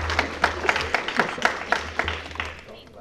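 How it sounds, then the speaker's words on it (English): Attendees at a board meeting clapping in a small room, a handful of distinct claps in a loose rhythm over a low hum, fading out after a few seconds. "Don't clap yet. I'm not done."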